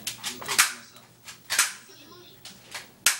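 A boy firing a toy gun, several sharp snapping pops at irregular intervals, close and fairly loud, with faint voices between shots.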